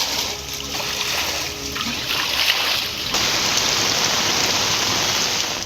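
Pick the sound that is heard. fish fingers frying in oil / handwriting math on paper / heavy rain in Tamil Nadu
heavy rain in Tamil Nadu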